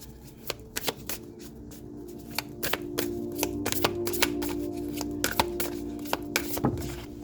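Oracle cards shuffled for a reading give crisp, close riffling snaps in irregular bursts. The steady card noise runs throughout with no talking.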